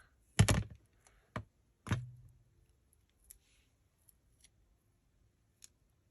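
Scissors snip paper for layered collage clusters, a few sharp close cuts at the start followed by sparse faint clicks and ticks.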